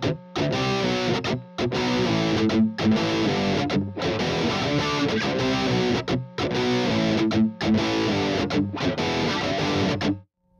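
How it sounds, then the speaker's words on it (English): A heavily distorted electric guitar chugs through a driving riff, loud and continuous, with brief rhythmic stops between phrases. "we kick on the distortion and we get into the coolest riff of the song"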